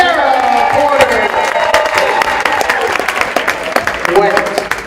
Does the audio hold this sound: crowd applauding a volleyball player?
yes